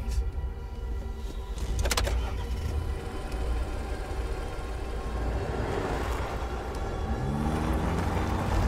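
A car drives along steadily with a constant engine and road rumble throughout, a brief clatter near the start and a low rising engine note toward the end, with no talking.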